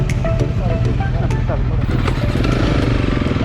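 Motorcycle engines rumble at a roadside police checkpoint, a loud, continuous low throb from nearby bikes, with someone talking over the noise.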